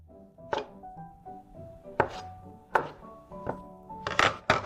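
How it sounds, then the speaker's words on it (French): Kitchen knife cutting brown sugar tapioca boba dough logs into pieces on a board, five or six separate close chopping thunks at uneven intervals, the last two quick together. "maintenant, on va couper nos morceaux"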